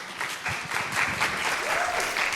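Steady audience applause at a climate justice dialogue event, moderately loud and continuous throughout with a faint voice in the middle.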